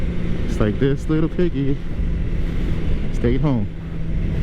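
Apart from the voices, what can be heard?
2013 Suzuki GSX-R 600 motorcycle riding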